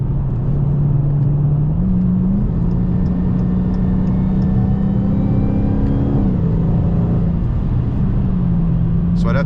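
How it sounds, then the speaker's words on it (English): Dodge Challenger Hellcat engine with supercharger, a steady low idle-to-cruise drone that shifts pitch a few times, constant and close throughout with faint supercharger whine above it. "if you ever want to stop and listen to the engine and the supercharger"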